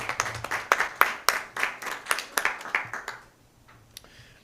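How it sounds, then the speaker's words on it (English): A short round of applause from a modest crowd at a school district meeting, steady clapping that fades out after about three seconds, followed by near quiet. "let's give them another round of applause"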